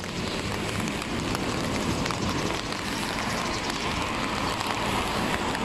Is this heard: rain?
yes